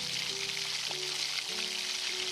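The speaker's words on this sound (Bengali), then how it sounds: "আস্তে আস্তে ফুলকপিগুলোকে দিয়ে ভালো করে ভেজে নিচ্ছি" Cauliflower florets frying in hot oil over a low gas flame for a Bengali cauliflower-potato dish, giving a steady, close hiss of sizzling with a few faint tonal hums in the background and no talk.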